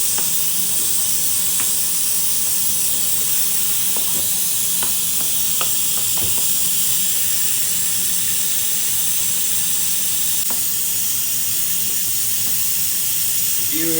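Black chickpeas boil in a pot beside a cooking spice masala, producing a loud, unbroken hiss of steam with faint bubbling and occasional light ticks running throughout.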